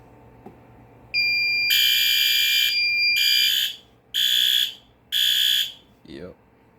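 A System Sensor PDRP-2001 fire suppression control panel sounding its alarm for a smoke detector input: a loud electronic tone in one long burst, then three shorter pulses, followed by a brief voice.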